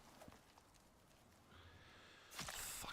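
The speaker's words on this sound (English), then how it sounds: "That horse is going to annoy me" A horse in the video game Icarus clip-clops a few quiet hoofbeats, then lets out a brief, louder whinny near the end against a faint game ambience.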